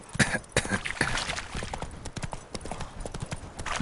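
Horse hooves clip-clop in quick, steady beats in The Witcher 3, close and loud, with a faint neigh-like sound.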